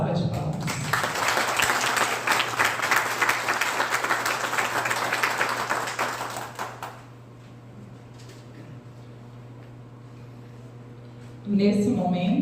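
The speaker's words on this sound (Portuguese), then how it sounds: "Uma salva de palmas." An audience at a book launch claps in a full, dense round of applause that fades out after several seconds, followed by quiet room tone before a voice comes in near the end.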